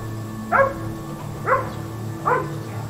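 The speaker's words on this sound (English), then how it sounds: "damn dogs in the background" Dogs bark three times at an airport gate at Chicago O'Hare, evenly spaced short barks at moderate distance over a steady indoor hum.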